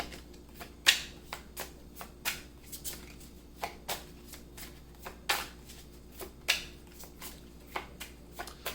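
Tarot cards are drawn and handled from a deck, producing soft, close, irregular slaps and flicks of card against card in a quiet room.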